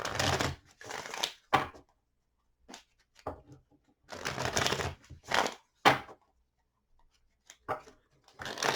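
Tarot cards shuffled in several brisk riffling bursts separated by short pauses, close and fairly quiet.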